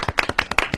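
A short burst of hand clapping from a few people in a radio studio, with quick uneven claps close to the microphone and slight talk underneath.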